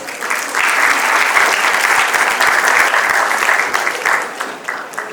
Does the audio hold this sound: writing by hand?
no